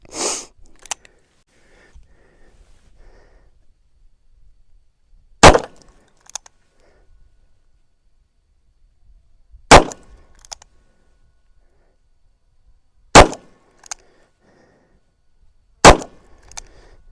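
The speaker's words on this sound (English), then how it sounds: "fire all these shots single action" A Ruger GP100 .44 Special revolver fires single action: five loud, sharp shots spaced a few seconds apart, each followed by a brief faint echo, with near silence between them.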